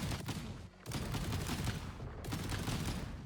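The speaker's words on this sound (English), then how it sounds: "okay, we got cannons." Cannons firing on a mech in the video game Trailmakers: a quiet, rapid crackling volley of blasts, broken by two brief gaps and then resuming, with no talking.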